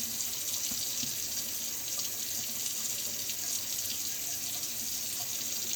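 Yams being washed under a running kitchen tap, a steady, continuous stream of water splashing into the sink with small knocks, close by and with no talk.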